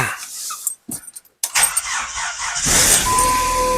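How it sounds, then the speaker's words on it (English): A car engine with a non-working alternator cranks in short bursts between pauses, then catches and settles into a steady, close running drone that continues to the end. "I'm curious if it's going to turn the engine over even"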